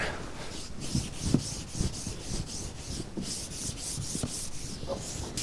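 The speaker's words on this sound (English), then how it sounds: "Just gonna lightly scuff up the whole top so the headliner will stick to it better." A Jeep Rubicon roof is lightly scuffed by hand to prepare it for headliner adhesive, giving a close, steady series of rhythmic rubbing strokes, about two per second, with no talk.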